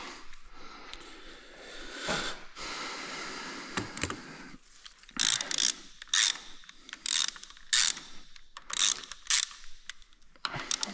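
A ratchet clicks in repeated bursts while bolts are tightened on an Audi-type 3.0 TDI 272 hp diesel engine during a timing chain replacement, close-up mechanical pawl rattles separated by short pauses.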